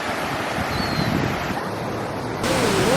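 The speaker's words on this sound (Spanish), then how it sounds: "Chequen nada más el mar, qué hermoso." Ocean surf along the Puerto Vallarta seafront, a steady broadband wash of waves mixed with wind noise on the microphone, loud and continuous with a slight swell near the end.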